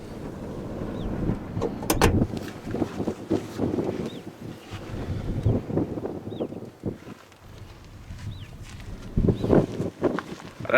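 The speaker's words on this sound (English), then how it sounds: "I don't know if you can hear me with the wind" Outdoor wind buffeting the microphone during a road test beside a small Toyota hatchback with a 1-liter three-cylinder engine, heavy low rumbling gusts that surge and ease irregularly throughout, loud and close.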